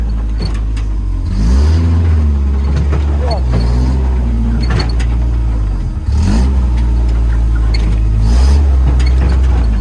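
Lexus crawling over rocks off-road, its engine repeatedly revving and straining with rising and falling pitch, loud and close, while people talk over it.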